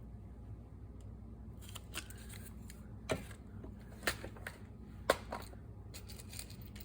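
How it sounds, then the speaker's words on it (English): Scissors cutting the top off a paper journal envelope, a few quiet, separate snips and crisp paper crackles spaced out against a faint, near-silent background. "I'll have to cut this top off."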